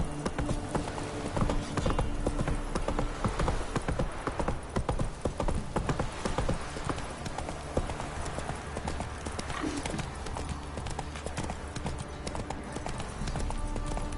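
Steady horse hooves clip-clop at a riding pace in The Witcher 3, a continuous rhythmic trot set against a dense game soundscape with a brief whinny.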